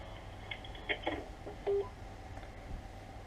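A telephone keypad dials a directory service number, a short run of faint beeping tones tapped at an uneven pace over quiet room hiss.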